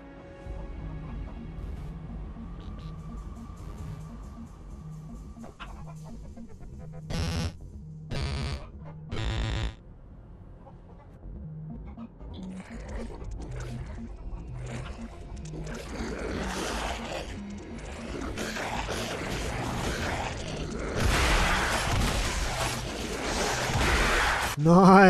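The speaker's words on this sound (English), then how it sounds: "A chicken blasting polyps with 2 sword-off shotguns" Sawed Off Chicken arcade minigame in Gears of War 3, a chicken firing two sawed-off shotguns at polyps: several sharp blasts, then a busy, rising clatter of game effects over a steady musical hum, close and moderately loud.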